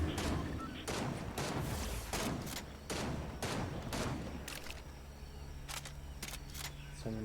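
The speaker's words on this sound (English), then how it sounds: "Someone is shooting here." Gunfire in Fortnite no-build mode, a rapid series of sharp shots in irregular bursts over a low game background, fainter and more spaced near the end.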